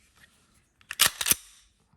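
A Glock 34 Gen 5 trigger pulled through a short travel to a firm wall and breaking cleanly, heard as a few sharp, close mechanical clicks bunched within half a second amid near silence.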